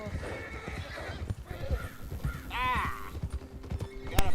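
A horse in the video game Red Dead Redemption 2 gives a clear whinny midway while steady clip-clop hoofbeats carry on throughout, with game voices talking over the riding and a sharp knock near the end.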